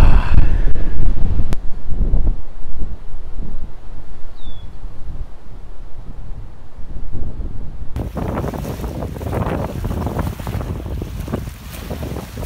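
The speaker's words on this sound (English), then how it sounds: "My cloak is blowing in the wind." Strong wind blows outdoors in Minnesota, buffeting the microphone in loud, continuous roaring gusts with a few sharp cut-ins, and nobody speaks.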